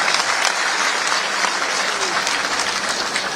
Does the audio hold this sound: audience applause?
yes